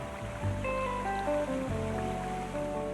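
Steady rushing water from a babbling brook feeding a garden pond, continuous and fairly close, with a faint tonal hum running through it.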